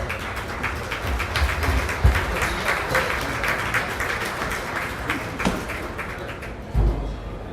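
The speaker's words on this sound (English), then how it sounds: "Give these exhibitors a round of applause." A crowd at a county fair swine show claps for the hog exhibitors: steady, dense applause that holds for several seconds, with a couple of louder thumps and scattered taps mixed in.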